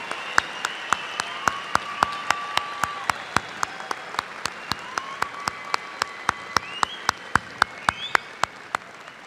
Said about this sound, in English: Let's have a round of applause for our December 2018 master's degree graduates